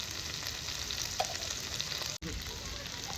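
Fried cashews, raisins, potato and pointed gourd cooking in spices in a pan, an even, dense sizzle held close and loud with a faint stir, cut by one brief dropout, no speech.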